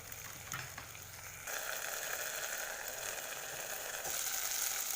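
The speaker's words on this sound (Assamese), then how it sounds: "কম জুইত ভাজি ল'ম অলপ" Fish curry mixture in a covered pan fries over a low flame with a faint, soft, continuous sizzle, getting a little fuller partway through, with no voices over it.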